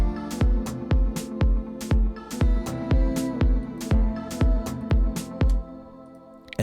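Electronic hi-hat samples layered into an Afro house groove, crisp bright ticks riding over a steady looping pattern of punchy drum hits with no speech.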